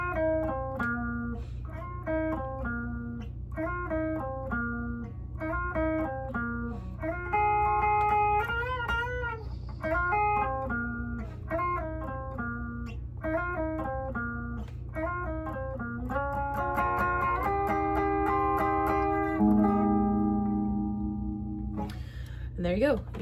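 Guitar playing the outro of a song, repeating arpeggiated note patterns that move into sustained chords near the end, steady and clear over a constant low hum.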